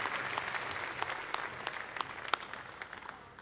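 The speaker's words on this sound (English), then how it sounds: "how about one more big round of applause for our state sportscasters and sports writers of the year" Banquet audience applauding state sportscasters and sports writers at an awards dinner, scattered distinct claps over a soft crowd wash, moderately distant and tapering off toward the end.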